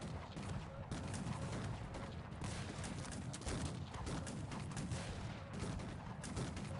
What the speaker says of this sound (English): he's getting constantly peppered down by the MG house